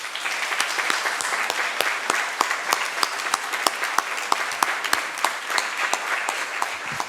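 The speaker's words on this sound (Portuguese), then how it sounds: "uma grande salva de palmas para a senhora" Sustained audience applause at a national human rights congress, a steady dense wash of clapping at moderate volume lasting several seconds without speech.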